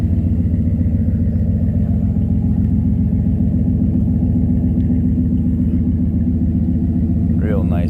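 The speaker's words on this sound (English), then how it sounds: "Got a little bit of exhaust leak developing." An old work truck idles close by with a developing exhaust leak, a steady low rumbling drone with a faint puffing tick, and a voice speaks briefly near the end.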